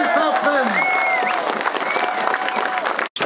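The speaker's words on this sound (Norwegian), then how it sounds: "Petter Northug og Johannes Høsflot Klæbo, en stor applaus for innsatsen!" Crowd applause at a roller ski race, dense clapping and cheering from many people, loud and close, with a voice speaking over it.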